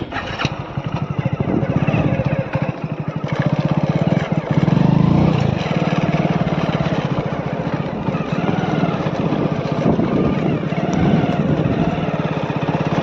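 A motorcycle engine runs close and loud as a ride begins on a rough village footpath near Muddebihal, a throbbing, pulsing drone that swells briefly around the middle and then holds steady, with no talking.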